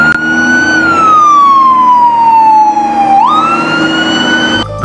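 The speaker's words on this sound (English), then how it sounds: "This is a fire truck ladder" A toy fire truck ladder unit wails out an electronic siren, one loud, close, continuous tone that slides slowly downward and then jumps back up, ending with a click.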